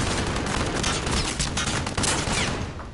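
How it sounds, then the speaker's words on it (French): Dense, continuous gunfire from the video game Call of Duty Modern Warfare, loud and sustained with overlapping shots and booming impacts throughout. "Ah ouais, ah ça tire de ouf."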